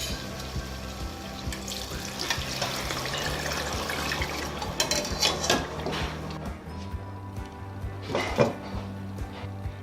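Water runs and splashes steadily into a cooking pot holding meat, about four glasses' worth poured for pulao, with clinks of the pot and utensils; no one speaks.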